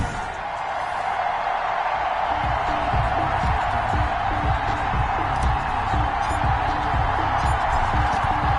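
Simulated stadium crowd noise from an EA Sports NFL video game, Giants matchup on a wet, rainy afternoon: a steady, loud wash of cheering and murmur that holds evenly throughout with no clear peaks.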